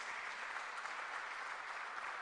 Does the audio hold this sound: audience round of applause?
yes